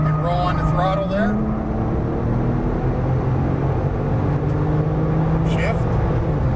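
Porsche engine rising in pitch as the throttle opens coming out of a corner, a steady loud drone with a climbing tone under a voice giving driving instructions.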